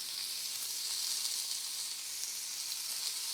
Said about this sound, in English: Get a little oil on our pan here so it doesn't stick. Let's get this beautiful marinated tofu cooking.